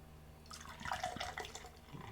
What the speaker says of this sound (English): Alright, let's try to pour hard.